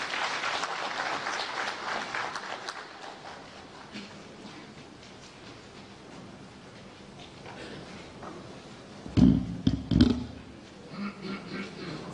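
An audience applauds at a government orientation event in Ghana, a moderate wash of clapping that fades over several seconds. Later a few loud, close thumps or handling bumps stand out.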